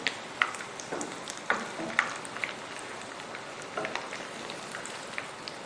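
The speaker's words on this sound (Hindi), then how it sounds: "और मीडियम फ्लेम पर आपने फ्राई करना है। इसको आराम आराम से पलटें।" Jaal wala kababs fry in oil over a medium flame, giving a steady crackling sizzle broken by sharp little pops and spits. There is no talk.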